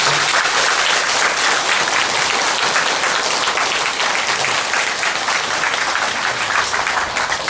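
Dense, steady applause from an audience at a Buddhist eye-opening consecration ceremony for a Buddha statue, loud and sustained for the whole stretch with no break.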